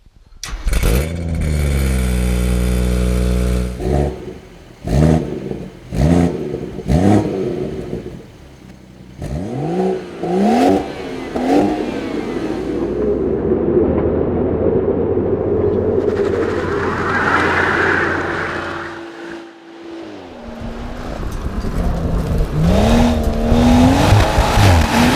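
A 2016 BMW M140i, rear-wheel drive, accelerates hard through several gears, its engine rising and dropping with each shift in loud close bursts, then a longer sustained pull with tire and road noise; no talking.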